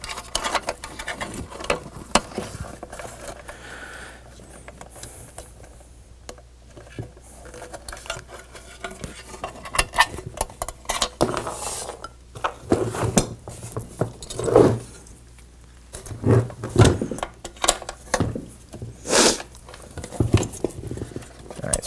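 Small plastic washer and metal nut being handled and fitted onto an arcade power supply during a restoration of a Rock-Ola Jump Bug cabinet; scattered light clicks, taps and rattles, close and intermittent, with a low steady hum underneath.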